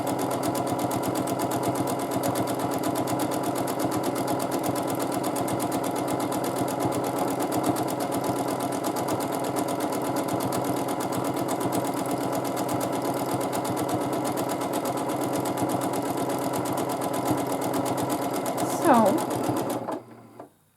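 Sewing machine stitching free motion quilting in a ribbon candy pattern, a fast steady mechanical whirring and rapid needle clatter running continuously before stopping abruptly near the end.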